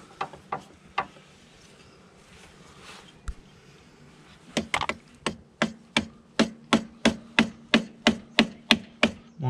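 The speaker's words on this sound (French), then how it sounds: "Bon là je peux taper plus fort mais il bouge pas non plus." Someone taps with a tool on the diesel injection pump of a VW 1.9 TDI 110 hp engine. A few scattered knocks are followed by a steady run of sharp, evenly paced strikes, close and loud over low background noise.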